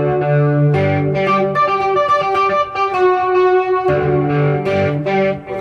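Electric guitar, played through echo and a watery chorus pedal, rings out with sustained, shimmering chord tones and repeating delay trails. It is loud and continuous, with no talking.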